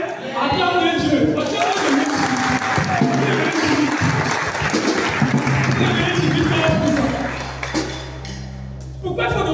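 A church congregation bursts into sustained applause and cheering, a dense, loud wash of clapping and voices that fills the room for most of the clip before thinning out near the end.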